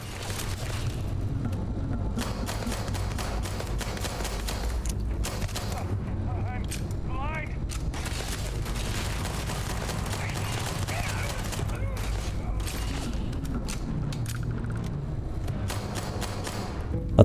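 Rapid bursts of gunfire fill a firefight in the sci-fi video game Starfield, with repeated shots and mechanical thumps running under game sound and occasional voices throughout.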